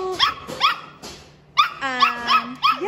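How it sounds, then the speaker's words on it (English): Several dogs bark and yip in quick bursts, with sharp repeated barks close by and a brief pause midway before the barking picks up again. "You got everybody else barking."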